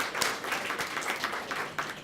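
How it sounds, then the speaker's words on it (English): Audience applause for event sponsors at a school board Student of the Month ceremony, a steady wash of many hands clapping at moderate distance, continuous for about two seconds with no talking. "So let's give a round of applause to all of our sponsors."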